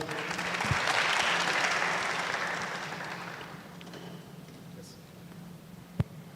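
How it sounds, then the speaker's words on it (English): An audience at a tech skills graduation ceremony applauds for a few seconds, the clapping strongest early and fading gradually, followed by quieter room noise and a single sharp knock near the end. "Let's clap for Toyo."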